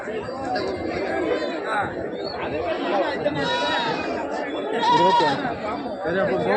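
Goats bleat at intervals amid the busy chatter of people bargaining at a Saturday goat market in Rettiyapatti, the animal cries rising over constant nearby voices.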